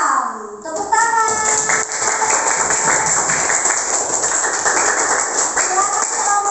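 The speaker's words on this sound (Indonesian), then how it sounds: "Tepuk tangan." A classroom of children breaks into sustained applause, many small hands clapping rapidly and loudly, with kids' voices chattering underneath throughout.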